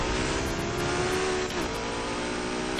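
Car engine in the racing game Need for Speed Heat, a steady mid-pitched drone with a slight rise in revs, heard continuously throughout with no talking.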